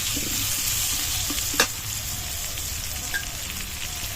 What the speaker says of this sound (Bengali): দিয়ে আমটাকে একটু নাড়াচাড়া করে ভেজে নিচ্ছি।